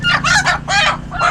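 A chicken held upside down clucks and squawks loudly at close range, giving several agitated calls in quick succession.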